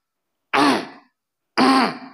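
Two loud, close throat clearings, separated by a short pause of silence.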